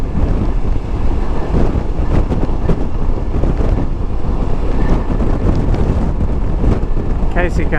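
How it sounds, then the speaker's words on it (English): Strong wind buffeting the microphone while riding a CFMOTO 800MT motorcycle on a cold day in south-eastern Australia, a loud constant roar throughout with no letup. "the wind has really picked up again"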